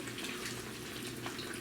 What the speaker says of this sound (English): let's pour some of this gravy on to our fries